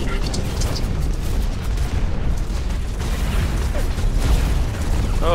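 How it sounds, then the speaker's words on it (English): Base turrets in the mech shooter Hawken fire on a player's mech, producing a dense, continuous barrage of booming bursts and mechanical rumble that stays loud from start to finish. "Oh, the base turrets are hitting me too."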